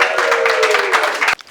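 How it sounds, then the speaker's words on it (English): Brief applause from a small audience at an art show evening, a short burst of clapping that cuts off abruptly near the end. "Let's everybody give Carol a round of applause here."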